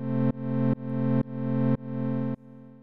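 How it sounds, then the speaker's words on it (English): A synthesizer plays a sustained buzzy, distorted tone cut into rhythmic pulses by one LFO modulating another, so the pulse spacing gradually stretches out before the tone drops to a quieter held note at the end. "that's how you can use LFOs to control other LFOs"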